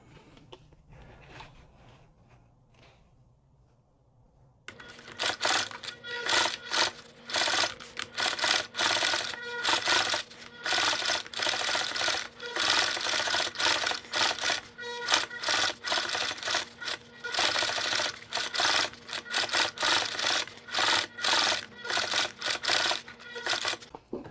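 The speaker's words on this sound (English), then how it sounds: "always start with a forward stitch and then do a back stitch to kind of lock that in, and then you can proceed to sew around." A sewing machine stitches around a cowboy beer hat, starting after a quiet few seconds and then running loud and steady with a fast rhythmic chatter through to the end.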